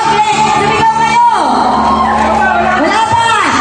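A group of people at a company fun run and family day game shout and whoop together, a loud sustained burst of many voices close by with pitch sweeps and some talk mixed in.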